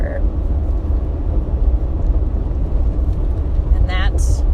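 Steady low rumble of a car interior while driving, road and engine noise droning loudly and evenly throughout, with a brief higher tone near the end.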